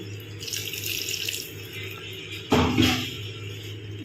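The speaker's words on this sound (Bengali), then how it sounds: "এক ফুটে জল দেবো, বেশি না, সামান্য।" Water pours steadily into a home cooking pan of kochu (taro) stolon chorchori, a close, continuous splashing stream that swells louder about halfway through.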